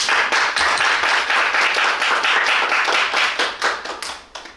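A church congregation claps together to open an Easter Sunday worship service, a dense, steady patter of many hands that fills the room and tapers off near the end, with no talking.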